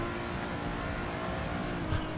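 A Renault Megane Trophy in a racing video game holds a steady, droning engine note throughout, moderately loud and constant with faint higher whines drifting over it and no voices.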